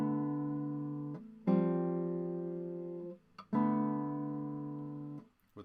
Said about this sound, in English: that Brouwer study often sounds like this